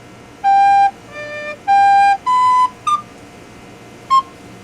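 Recorder played alone: a few sustained notes followed by short, clipped staccato notes in a brief measure, clear and close.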